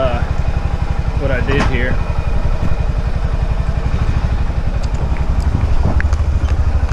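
Honda ATV engine, a Rincon 680 or Rancher 350 under repair, running steadily with a loud, rapid, even idle throb from close by while someone talks over it.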